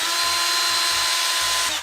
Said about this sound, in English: I'm just gonna drill our pilot holes.